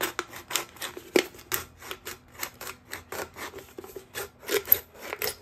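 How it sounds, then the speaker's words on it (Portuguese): A utility knife slices through a thin aluminum beer can, giving a rapid series of close, scratchy rasping strokes and small metallic scrapes in an uneven rhythm, with no talking. "Com o estilete, nós vamos cortando."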